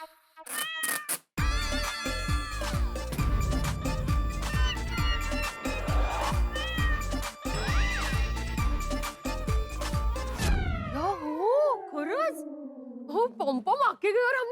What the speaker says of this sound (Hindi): मैंने बोला था ना कि बिल्ली की आवाज आ रही है